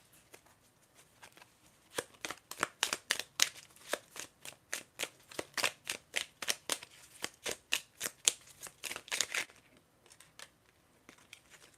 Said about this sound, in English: Let me shuffle some cards from this deck